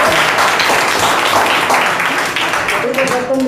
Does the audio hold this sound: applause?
yes